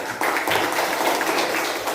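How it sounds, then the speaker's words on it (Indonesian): A classroom audience gives a single round of clapping on a teacher's cue, a brief burst of hand claps that carries on for about two seconds. "Tepuk tangan sekali."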